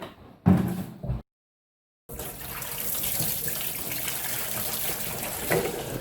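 Liquid detergent and water pour steadily into a container for washing small hive beetle trap tops, a continuous splashing rush after a few brief knocks and a silent gap.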